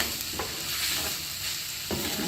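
Green salsa with cayenne sizzles in a hot pan while a utensil stirs it, with two distinct scraping strokes over the constant frying hiss.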